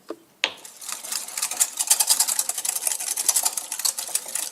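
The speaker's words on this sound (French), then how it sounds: "On va fouetter l'ensemble." Egg yolks being whisked with vanilla seeds and stevia in a bowl: a rapid, steady clicking and tapping of a whisk against the sides after one sharp initial knock, close and continuous with no talking.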